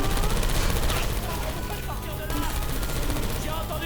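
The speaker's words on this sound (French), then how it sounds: "J'ai entendu des coups de feu." Rapid gunfire bursts from the Portal 2 video game rattle loudly and continuously, a dense fusillade that keeps up from start to finish.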